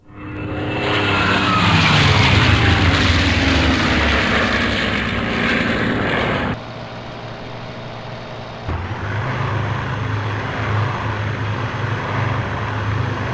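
Fiat G.55 fighter in IL-2 1946, its piston engine roaring loud and steady as the plane dives, then abruptly dropping to a lower drone and rising back partway, with no speech.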